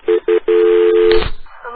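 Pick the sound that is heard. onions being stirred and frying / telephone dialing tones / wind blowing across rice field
telephone dialing tones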